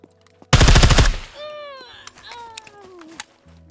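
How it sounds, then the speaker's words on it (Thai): A burst of rapid automatic gunfire rings out in the survival game SCUM, loud and close for about half a second, then trailing echoes and scattered distant pops fade out. "ผมไปยิงมันนะ"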